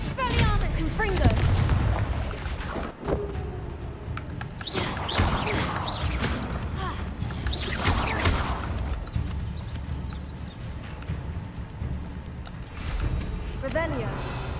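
Confringo blasting spells in Hogwarts Legacy combat erupt as repeated sharp blasts and booms over a dense, busy spell-fight soundscape, continuous and loud throughout, with voices calling out amid the action.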